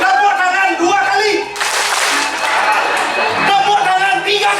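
An audience at a live Balinese drama gong comedy show claps in a short burst, heard up close under a voice speaking over it.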